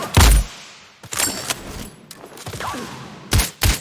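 Gunfire in Sniper Ghost Warrior Contracts 2 comes as a loud close blast at the start, a few scattered sharper reports in the middle and two quick heavy shots near the end, with no talk.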